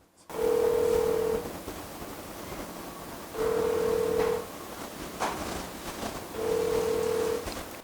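Outgoing phone call ringback tone: three long, steady beeps about a second each, separated by two-second pauses, clear over a low background hiss with no talking.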